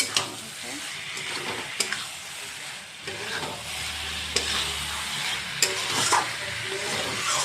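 Taro stolons (lati) sizzling in a hot pan while being stirred, a steady frying hiss broken by occasional scraping clinks of a utensil against the pan.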